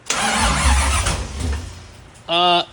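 A '57 Chevy with a newly installed motor cranks and starts, a loud close engine roar that fades, followed by a brief high squeal at the end.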